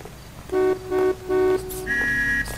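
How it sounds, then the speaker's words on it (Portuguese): A car horn honks in the video game L.A. Noire: three short beeps in a broken rhythm, then a higher, longer blast, loud and close over a low engine hum. "Você tá buzinando pra mim, mano?"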